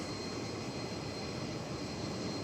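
A jet airliner takes off at DFW Airport, a steady, broad engine roar that holds loud and constant throughout, with no talk.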